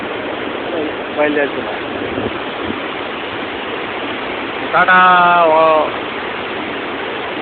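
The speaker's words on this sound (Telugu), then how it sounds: "వాటర్ఫాల్." Steady broadband rush of a waterfall along the Jomsom to Pokhara route in Nepal, continuous throughout, with a brief voice near the start and a louder spoken phrase partway through.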